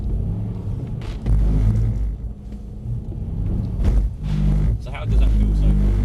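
A Mercedes C63s AMG at full throttle on the driving circuit at Mercedes-Benz World, a deep, loud engine roar that swells and surges in waves while people talk over it inside the car.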